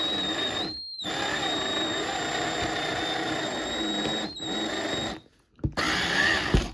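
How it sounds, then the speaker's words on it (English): A power drill whines steadily as it bores up from underneath through a model railway layout board, running slow and continuous with a few brief stops and restarts. "I drill from the bottom up."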